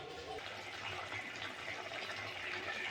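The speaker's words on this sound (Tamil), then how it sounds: "ஸோ இப்போ நம்ம கொஞ்சமாக தண்ணி சேர்த்து வேக விட்டுறலாம்." Water being poured into chow chow koottu, a Tamil chayote dish, in a cooking pot, a steady close splashing and bubbling wash that continues for the whole stretch with no talk over it.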